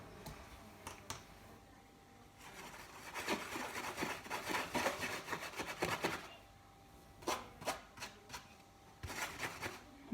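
A makeup brush is scrubbed with soap, giving bursts of close, wet rubbing and bristle friction in several rhythmic spells, separated by quieter pauses.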